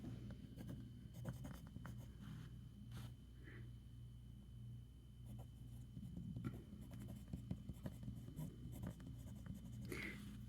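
A fountain pen with a medium nib writes on paper in brown ink, a soft continuous scratching with short strokes and pauses over a low steady background rumble, close and fairly quiet.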